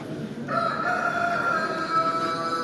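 A rooster crows in a long drawn-out call against a steady background of clucking and barnyard noise, among poultry breeds such as Silkies, Rhode Island, Sussex and modern English game.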